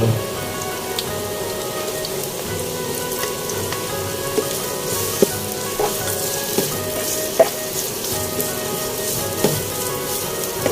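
Garlic frying in a hot pan gives a steady, loud crackling sizzle with scattered pops, close up and continuous with no talk.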